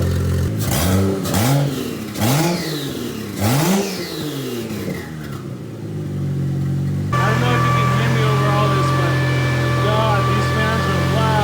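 Toyota 1JZ engine swapped into a Nissan 240SX, idling while warming up with several rising revs near the start, then settling into a steady, loud idle hum.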